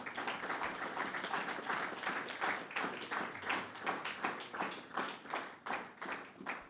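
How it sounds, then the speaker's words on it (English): A congregation gives a round of applause, rhythmic clapping that turns into a steady beat in the second half, moderately faint, with no one speaking over it. "Let's give them a big round of applause."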